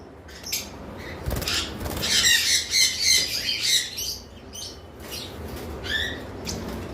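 Caged lovebirds and cockatiels squawk loudly and repeatedly nearby in harsh overlapping bursts, with a few chirps and a faint flutter of wings among them.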